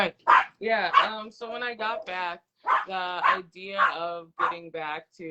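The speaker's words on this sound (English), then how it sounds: "sorry about the dog." A dog barks intermittently in the background, several short bursts mixed under a person speaking steadily in a conversational interview.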